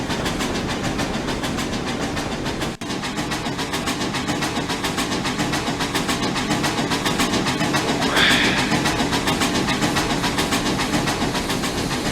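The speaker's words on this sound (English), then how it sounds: "As the 2 engines began climbing the steep hill" Two locomotives climbing a steep grade in Trainz Railroad Simulator 2019 during a blizzard at night, a steady, loud rumbling engine drone with rhythmic clicking under it, briefly dipping near three seconds before continuing unbroken.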